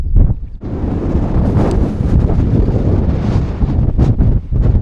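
Strong, cold gusting wind buffeting the microphone at an exposed viewpoint on a volcanic island, loud rumbling roar that surges and dips with each gust, no voices.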